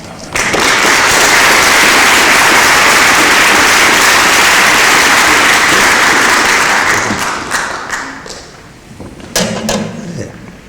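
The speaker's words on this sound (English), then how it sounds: "So a big round of applause and welcome Ian Hamm" An audience applauds loudly to welcome a speaker at a public forum, a dense sustained wash of clapping for about seven seconds that then thins into scattered claps and a few thumps before fading.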